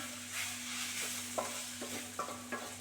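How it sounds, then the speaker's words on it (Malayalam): Sliced onions frying with turmeric powder in a pan, a soft steady sizzle with several scraping stirs from a spoon, close and fairly quiet, no voices. "സവാളയെല്ലാം മൂത്തയിലേക്ക് കുറച്ച് മഞ്ഞൾപ്പൊടിയും കൂടി ചേർക്കുന്നുണ്ട് സവാള നന്നായി മൂത്തിട്ടില്ല"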